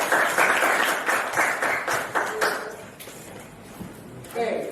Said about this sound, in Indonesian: Tepuk tangan dong buat Afisa